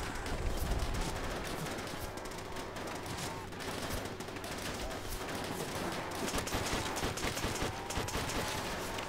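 Bot soldiers fire rifles and machine guns at zombies in Call of Duty: World at War, a steady barrage of game gunfire running throughout at moderate loudness, with no speech.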